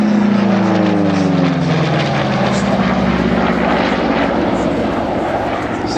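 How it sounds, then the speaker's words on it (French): An American WWII fighter plane's piston engine roars loudly in flight at an airshow, a continuous propeller drone with a pitch that slides downward as it passes, with faint talk underneath. "c'est un avion américain, c'est un avion en pleine croissance, avec des systèmes extrêmement costauds"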